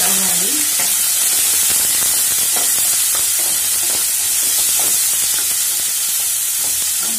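Chopped onions frying in a pan for a potato and fenugreek curry, a steady dense sizzle with a few scraping stirs running throughout.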